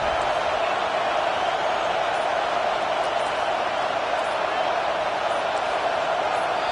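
A stadium crowd roars continuously in the NCAA 25 college football video game on a fourth-down play, a dense, loud, unbroken wall of noise that forces a false start.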